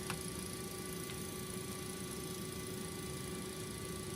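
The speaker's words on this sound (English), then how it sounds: "Looks like the engine has in fact started. It's a loud one." An MD-82's number 2 jet engine spooling up in X-Plane 12, a loud, steady whine with a constant high tone over a broad rumble, continuous and unchanging throughout.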